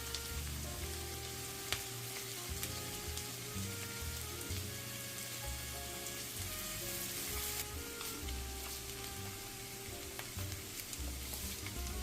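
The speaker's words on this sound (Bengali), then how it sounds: "পেঁয়াজ কুচিটাকেও আমি এক মিনিট মতো ভেজে নেব এক মিনিট পেঁয়াজ ভাজবার পরে দেব এখন কাঁচামরিচ কুচি" Chopped onion and green chillies frying in hot oil for a Bengali vortha mash, a steady close sizzle and crackle that continues throughout with occasional stirring, no talking.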